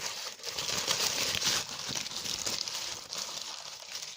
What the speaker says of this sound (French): Alors, ensuite, je vais déballer ceci.